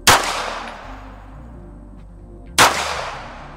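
Two sharp, loud handgun shots ring out about two and a half seconds apart, each a hard crack followed by a ringing decay, fired outdoors in a comparison of .22LR and 9mm calibers.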